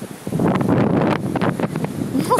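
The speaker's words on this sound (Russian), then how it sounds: "Красивые волны." Sea waves at a beach on a windy day, with broadband surf rush and heavy wind buffeting on the microphone that continue steadily and loudly throughout.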